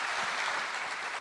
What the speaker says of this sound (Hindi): जोरदार ताली इसके लिए